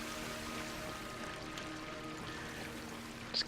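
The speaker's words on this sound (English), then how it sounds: "Pretty waterfalls." A waterfall in the video game Darksiders II rushes in a steady, even roar that holds throughout, with no voices and only a small bright chime near the end.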